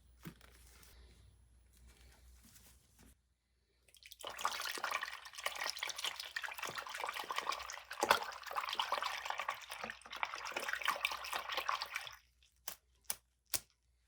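Plastic shell pieces from a Nintendo Switch OLED go into a container of water and are stirred, making a faint, close stretch of sloshing and rattling that ends with a few sharp clicks.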